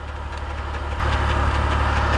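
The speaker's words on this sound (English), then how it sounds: "this sort of repetitive noise, it's because I have an aftermarket oil pump on this transmission" A BMW E46's steady idling engine with a repetitive mechanical ticking pulse from an aftermarket oil pump on its ZF 5HP19 automatic transmission, growing slightly louder halfway through, close up and without talk.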